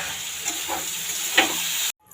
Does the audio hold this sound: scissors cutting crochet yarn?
no